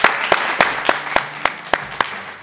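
A short round of applause during an interview with a top university student: evenly spaced, sharp claps at a brisk, regular rhythm, fairly close and clear with no talking.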